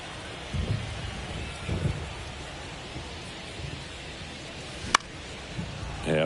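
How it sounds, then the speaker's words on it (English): Steady rain hisses across a ballpark in a PlayStation baseball game between the Mets and Cardinals, with soft low rumbles of thunder and a sharp crack near the end, and no talking over the downpour. "This rain is not letting up."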